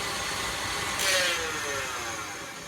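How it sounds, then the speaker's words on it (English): An electric food mixer runs steadily while beating cupcake batter for cherry Bakewell cupcakes, a loud continuous whirring hum that briefly strains and rises in pitch midway before settling, no talk. "My mixer didn't sound too good then, did it?"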